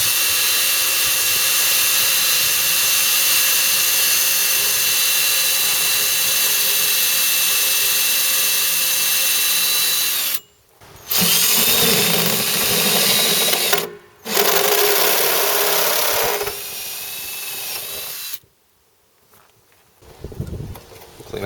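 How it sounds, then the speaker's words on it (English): A power drill bores a hole in a tank for a bulkhead fitting. It gives a loud, continuous whine in long runs, cut by two short pauses, and fades off near the end. "Mark your spot and drill."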